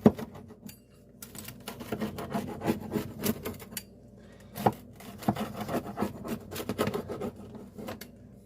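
Homemade pizza cut into squares with a pizza cutter, giving a steady run of close, crisp scraping and rubbing strokes across the crust with brief pauses between cuts.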